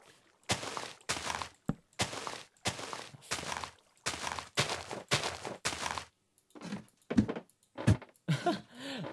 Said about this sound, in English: ladders now have a new sound to them when you climb them